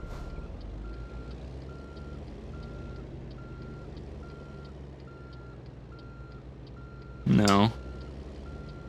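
An American Truck Simulator truck backs in with a steady run of evenly spaced reversing beeps over a low engine rumble, while someone talks in the foreground. A short loud horn-like burst cuts in near the end.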